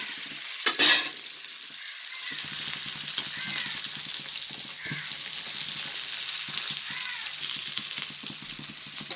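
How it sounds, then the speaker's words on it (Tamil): Chala sardines roast in oil in a pan with a steady close sizzle and frying crackle, broken by a few scraping stirs and turns of the fish. "மீன் ரோஸ்ட் பண்ணும்போது அப்பப்போ திருப்பி போட்டே இருக்கணும், அப்போ தான் எல்லா பக்கம் ஒன்று போல் வேகும்"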